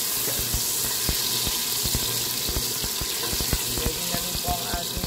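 Potato pieces stir-frying in a pan for a meat-in-tomato-sauce dish give off a steady loud sizzle, broken by repeated clicks and scrapes of stirring.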